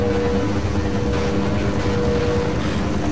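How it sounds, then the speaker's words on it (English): A loud, steady helicopter rotor and engine drone in the video game Half-Life with a constant mechanical hum, filling the whole clip without pause. "Helicopter's rather loud."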